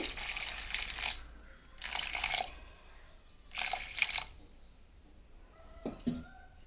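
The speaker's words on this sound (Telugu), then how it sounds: "వాటర్ పోసుకోవాలి." Water is poured into a bowl of jaggery in four separate bursts with pauses between them, splashing and trickling close by.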